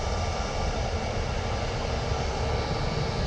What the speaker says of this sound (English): here's the TUI Dreamliner